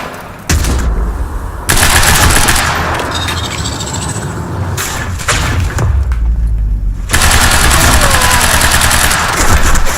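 Suppressing gunfire in the Quantum Break video game on PC: loud, dense bursts of shots and booming impacts that run almost continuously, with brief lulls before the firing swells again.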